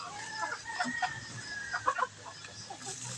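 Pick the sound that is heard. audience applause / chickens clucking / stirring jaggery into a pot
chickens clucking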